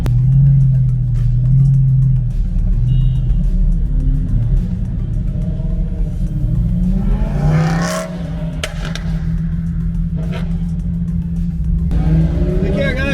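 A Lamborghini Gallardo's engine rumbles while the car drives on the road, a loud, steady low drone heard from inside whose pitch shifts around the middle, with voices talking over it at times.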